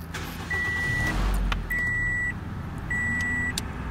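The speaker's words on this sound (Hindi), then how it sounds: "ये गाड़ी मिसिंग हो रही है और इसका आरपीएम ऊपर नीचे हो रहा है।" A Toyota Yaris with a misfiring engine idles roughly nearby, its low rumble rising and falling unevenly while three short electronic beeps sound over it.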